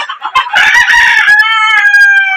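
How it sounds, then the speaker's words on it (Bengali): A rooster crows loudly and close by, one long drawn-out call preceded by a few short clucks, with no talking. "দেখেন আবার মুরগি খাচ্ছে"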